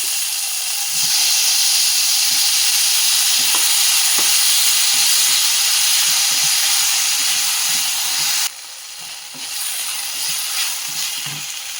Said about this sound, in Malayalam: ഇനി നമുക്ക് ഇതിനകത്തേക്ക് തക്കാളിയും കൂടി ഇടാം.